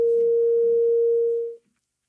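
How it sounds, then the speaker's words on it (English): Self-oscillating filter resonance on an ARP 2600 TTSH clone synthesizer, a pure steady sine tone held alone for about a second and a half before cutting off abruptly into silence. "This is the self-oscillating filter resonance."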